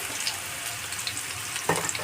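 Onion and green chilli frying in oil in a pan for fish pulao: a steady, soft hiss and sizzle with a faint crackle near the end.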